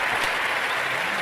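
Hand claps ring out in a podcast studio, a dense, close burst of clapping that sounds like applause and runs steadily through the whole moment, without any speech over it.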